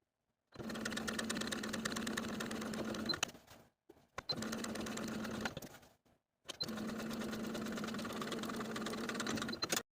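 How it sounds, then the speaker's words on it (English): A sewing machine edge stitches a facing on a flutter sleeve top, running in three steady buzzing bursts with short pauses between, close and even, with no talk. "edge stitch the facing in place, pivoting at the bottom corners"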